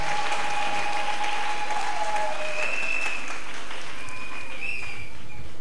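Church congregation applauding during a sermon, a steady wash of many hands clapping at moderate volume with whistle-like tones and cheers riding on top, continuing throughout.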